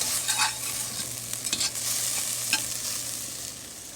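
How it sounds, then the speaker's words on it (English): Garlic cloves and onion fry in a hot pan with a steady sizzle, broken by a few scraping stirs and small crackles, close and moderately loud, with no talking. "And now I'm going to throw in about 6 cloves of garlic"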